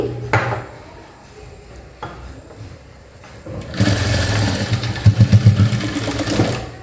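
A sewing machine runs a double top stitch on a half-shoulder blouse: a few short bursts of stitching at first, then a longer loud, fast mechanical rattle up close.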